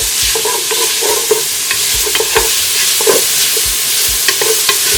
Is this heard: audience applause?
no